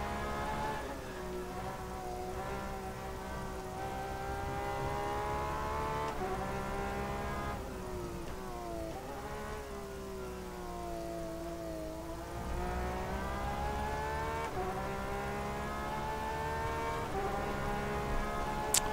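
Rain drums steadily on a wet road course at night in an rFactor 2 GTE race at Road America, beneath a droning race car engine whose pitch rises and falls with shifts and corners.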